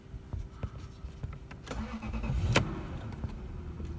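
A Lexus LS 430 V8 gets a cold start: a brief starter crank, then the engine catches with a sharp burst and settles into a steady idle, close and clear with no talking.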